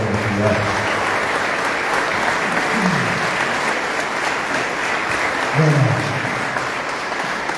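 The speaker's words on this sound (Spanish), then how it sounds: "Recibamos con un cálido aplauso" Loud, continuous audience applause fills the room at a cultural talk on folklore and traditions, welcoming a guest speaker; dense clapping holds steady throughout with a few brief voices over it.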